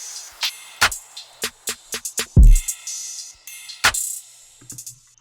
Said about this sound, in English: I also do introduce some snares that sound like this.